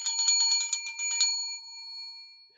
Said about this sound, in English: It's the opening bell.